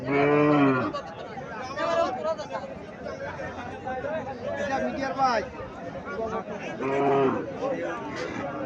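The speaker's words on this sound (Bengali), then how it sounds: "গাভীটা কি জাতের গাভী?" A cow, an old local deshi dairy cow, moos loudly at a Cumilla cattle market, with two long lowing calls at the start and near the end, under steady crowd chatter and people talking nearby.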